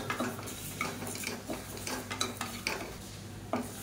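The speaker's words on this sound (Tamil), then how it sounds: "இதில் மெஷரிங் கப்பில் ஒரு 1/2 கப் அளவுக்கு பாசிப்பருப்பு சேர்த்து நல்லா வறுத்துக்கலாம்" Half a cup of moong dal dry-roasting in a pressure cooker, stirred with a utensil: soft scraping and rattling of grains against the metal with light clicks, quiet and close, no talk.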